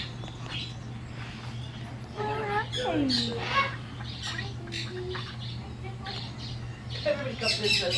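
A pet cockatiel squawks and chirps in short, close bursts over a steady background hum, with a person talking softly around the calls.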